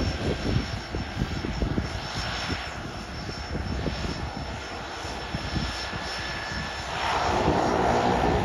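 A propeller plane landing and taxiing up a beach airport, a loud continuous engine drone with rising intensity toward the end, clattering and rumbling close by, with no talk.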